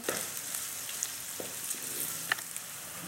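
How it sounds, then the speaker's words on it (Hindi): Onions fry in a pan over medium heat as an Anda curry masala base cooks: a steady, fairly quiet sizzle with scattered small pops and ticks, no talking. "प्याज को उस वक्त तक पकाएंगे जब तक कि वो सॉफ्ट ना हो जाएं।"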